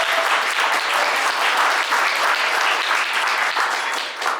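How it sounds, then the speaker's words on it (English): A wedding reception crowd claps for the newlyweds in a loud, sustained round of applause that fills the room, steady and dense from start to finish. "Let's give a round of applause for the newlyweds."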